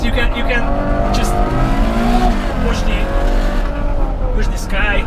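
A Ferrari GTC4Lusso engine accelerates with a steady, loud rising roar heard from inside the car, with a voice speaking over it at moments.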